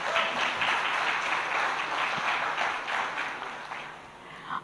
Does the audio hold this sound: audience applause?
yes